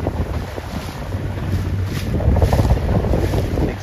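Wind buffets the microphone aboard a C420 racing sailboat in a regatta off Long Beach, a loud continuous rush with water and hull noise swelling steadily throughout, no voices.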